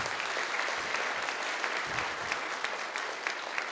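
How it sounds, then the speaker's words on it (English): An audience claps steadily at a Lunar New Year celebration at the Nixon Library after a piano performance, dense even applause from many hands filling the room with no speech. "Can we give another round of applause to Logan?"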